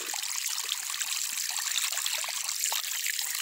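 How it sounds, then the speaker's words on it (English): Clean spring water trickles straight out of the ground with no pipe or pump, a steady, soft, close babble with faint droplet patter that holds even throughout. "This water's coming straight out of the ground."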